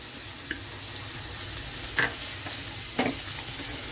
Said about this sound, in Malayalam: ഇനി നമുക്കിതൊക്കെ ഒന്ന് ചെറുതായിട്ടൊന്ന് വാടുന്നിടം വരെ നമുക്കൊരു 2 മിനിറ്റ് ഇളക്കി കൊടുക്കാം.